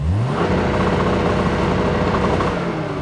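A 1971 car engine roars at high revs, held steady against the rev limiter as extra ignition firings are cut, giving a rough, stuttering buzz, loud and close throughout.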